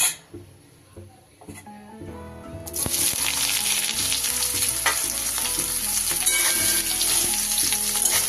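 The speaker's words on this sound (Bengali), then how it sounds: "এবার এই তেলের মধ্যে আমি সোয়াবিনগুলোকে একটু ভেজে নেব" Soybeans hit hot oil in a wok and break into a loud, steady sizzle that carries on after a few quiet clinks at the start.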